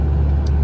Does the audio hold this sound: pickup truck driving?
yes